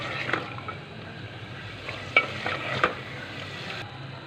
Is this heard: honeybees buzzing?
no